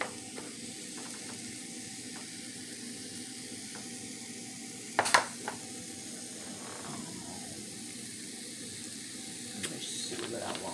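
Eggs sizzle steadily in a breakfast pan at a low, even hiss, with a few clinks of utensils and a brief sharp clatter midway.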